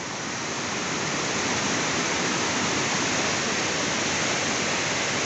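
A strong river current rushes steadily near a farming area in Serra Azul, Palmares, Pernambuco, a loud, unbroken broadband roar of water with no voices.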